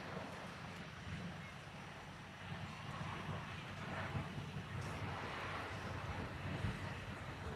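A Gokbey helicopter performs a flying display at the Farnborough airshow, its steady rotor and engine roar carrying over an open airfield, somewhat distant and mixed with wind noise, swelling slightly toward the end.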